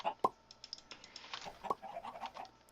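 Chickens clucking in the Minecraft game Stone Block, with short cluck bursts scattered over about three seconds, fairly faint and mixed with light clicking like keyboard typing.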